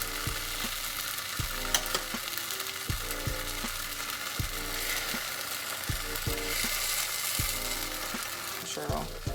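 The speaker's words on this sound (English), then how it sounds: "Toss in the pan. We are flipping it." A birria taco frying in a pan sizzles in a steady loud hiss, with recurring clanks and scrapes as it is tossed and flipped; no one speaks.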